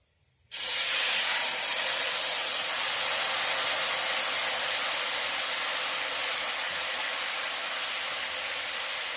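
Soaked tamarind added to a hot pan while making a sweet-sour coriander-leaf pickle: a loud, steady sizzling hiss bursts in after a brief silence and holds evenly to the end, with no talking.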